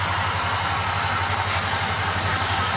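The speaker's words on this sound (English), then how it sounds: "We've got all 5 trains running." Steady low rumble and hum of five model trains running continuously on a layout, with a constant mechanical whir and no talking.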